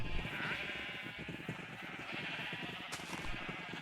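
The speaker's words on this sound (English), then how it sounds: "I have a lot of sheep." Sheep bleating in a survival video game, a steady flock of overlapping bleats running the whole way through, fairly close and moderately loud, with no talking.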